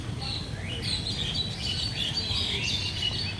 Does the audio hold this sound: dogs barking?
no